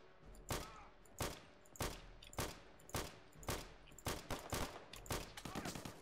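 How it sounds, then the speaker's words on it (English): Gewehr 43 semi-automatic rifle fire in the game Return to Castle Wolfenstein, a string of sharp, loud shots spaced under a second apart that quicken into a rapid burst toward the end. "That's not a sniper, it's a Gewehr"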